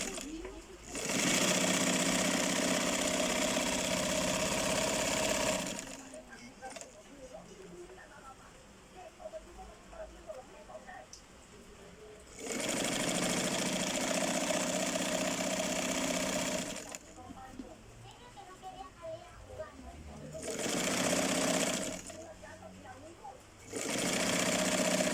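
Sewing machine stitching fabric at a 1 cm seam, loud steady whirring runs of several seconds that stop and restart, with someone talking in the quieter gaps.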